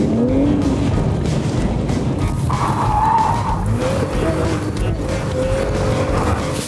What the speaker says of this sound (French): Tu sais ce que c'est, soit une RS3 Launch Control?